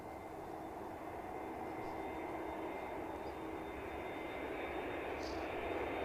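An Airbus A321neo airliner at Edinburgh Airport, a faint, steady distant engine hum and rush that holds evenly throughout with no voices.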